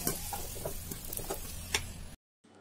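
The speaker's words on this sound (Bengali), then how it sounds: "এগুলোকে আমি এখন লাল লাল করে ভেজে নেবো" Potato pieces fry in hot oil for mutton korma with a close, steady crackling sizzle broken by scraping stirs and small ticks, then the sound drops out briefly and returns faintly.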